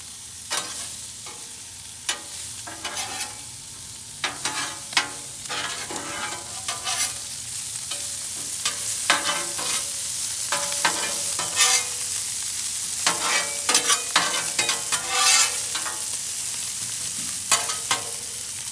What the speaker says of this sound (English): after I cook the bacon and the onions, I'm going to slide it to one side and just let it rest while I do the burgers